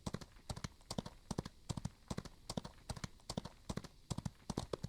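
Horse hooves clip-clop in the Western game Outlaws of the Old West, a steady, brisk run of sharp paired knocks repeating evenly for five seconds, close and clear with no speech over them.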